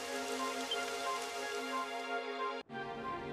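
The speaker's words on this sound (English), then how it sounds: "It would have to go and start raining, wouldn't it?" Steady rain falls as a game soundscape in Dragon Quest XI on PS4, a soft continuous hiss with a faint tonal hum. It cuts out sharply for a moment near the end, then resumes.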